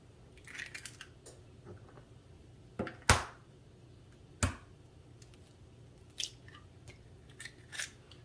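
Four eggs crack into muffin batter as a series of sharp, close taps and cracks, a few strong and isolated, scattered among quieter clicks over a low background hum.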